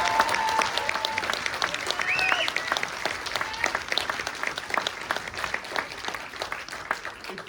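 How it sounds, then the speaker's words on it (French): Audience applause at a French-language debate competition final in Lille, steady dense clapping from a medium crowd that continues throughout without fading. "On peut les applaudir."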